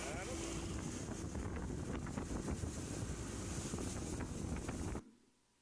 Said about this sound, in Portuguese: Agora a lancha vai fazer a volta e vai aparecer Belém do outro lado